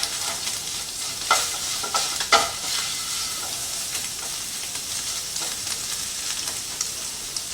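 Vegetables and the remaining beans are stirred into shredded beef frying in a pan for Cuban vaca frita. A steady sizzle runs throughout, with a few scraping stirs and utensil knocks near the start. Nobody speaks.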